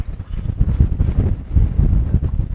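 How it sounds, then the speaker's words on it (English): Hooves clip-clop steadily as a mare works cattle in a cutting or cow-horse lesson, a close, continuous rhythmic thudding with no talk. "Mare's starting better, looks better, and Austin's working a better line himself."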